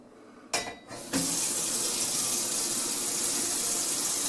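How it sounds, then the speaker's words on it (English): A kitchen sink faucet is turned on after a couple of brief clunks, then water runs in a steady, close, full rush into the basin until the end, with no talking. "And turn the water on."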